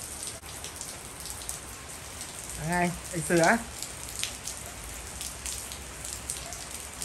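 Steady rain patters on surfaces outdoors in a continuous soft hiss, with a man's brief speech rising over it partway through.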